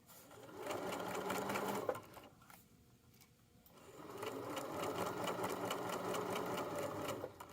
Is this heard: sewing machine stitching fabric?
yes